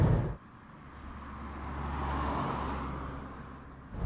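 Skoda Citigo city car driven along a demanding stretch of road, a steady engine and road drone with tyre rumble, close and continuous, with a brief cut at the start and end.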